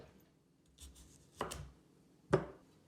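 A knife slices the end off a peeled turnip on a board, giving two sharp, close chopping thuds about a second apart, with a soft scrape of handling beforehand.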